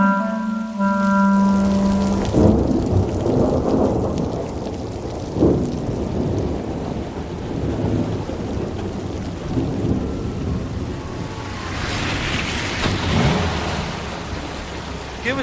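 Heavy rain pours steadily close by, a dense continuous hiss. Rumbles of thunder roll through the downpour, and a brief tonal hum is heard at the start.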